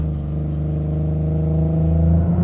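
Supercharged Nissan 370Z NISMO with a VQ37 engine and a roughly 3.25-inch pulley, making about 603 wheel horsepower, pulls hard under acceleration, its loud, close engine tone climbing steadily with a layered harmonic whine.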